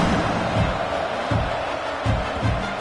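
Crowd at a football stadium during a game, a steady broad roar of many voices with low rumbling swells and no distinct cheers standing out.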